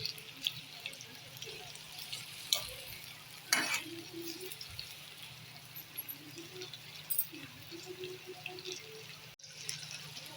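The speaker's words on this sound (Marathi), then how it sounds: "आपला कांदा आणि शिमला मिरची पण आता झालेली आहे बऱ्यापैकी फ्राय" Onion and green capsicum fry in a pan for paneer chilli, giving a low, steady sizzle with scattered scrapes and clinks from stirring. A louder clatter comes near the middle, and no one speaks.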